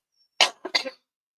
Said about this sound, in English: I am so sorry about my cough today.